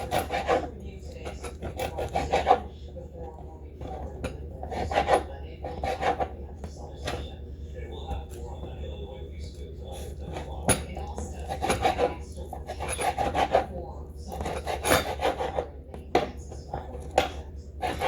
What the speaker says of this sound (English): I'm going to chop this pizza up.